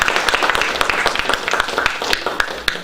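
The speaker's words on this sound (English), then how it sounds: "give her a round of applause." Audience applause for a speaker at a talk, a steady patter of many hands clapping at moderate loudness with a few sharper claps standing out, continuing throughout.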